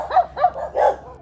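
Unfriendly dogs at houses in Bang Krachao bark at a stranger, a quick run of four barks with a longer, rougher final one, close and prominent with no voices.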